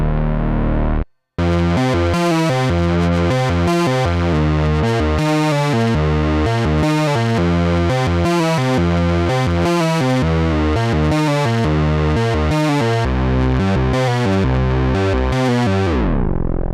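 A Moog Minimoog synthesizer playing a thick bass line with the overload distortion engaged, loud and continuous with a rhythmic pattern of sustained buzzing notes after a brief gap near the start, then cutting off at the end.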